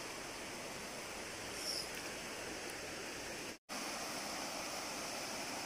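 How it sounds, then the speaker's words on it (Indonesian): The Sungai Paku river flowing, a soft, even hiss of running water that continues throughout, broken by a very brief dropout partway through. "Keadaan sungai di sini."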